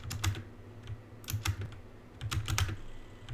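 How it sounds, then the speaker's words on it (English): Quick bursts of keyboard typing and mouse clicks, clustered in three short flurries, close and fairly soft with a faint hum underneath. "you can probably hear my keyboard and mouse clearly"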